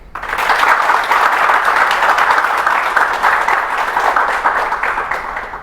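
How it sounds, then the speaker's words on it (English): A large audience claps steadily and loudly for several seconds at a televised science discussion program, a dense, continuous wash of applause with no voices. "let's have a big round of applause for all these senior scientists who are here"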